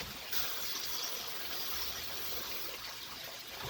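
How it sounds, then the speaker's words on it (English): Water poured onto peat while potting blueberry plants, a steady, faint hissing trickle and splash that runs continuously throughout. "Water the peat."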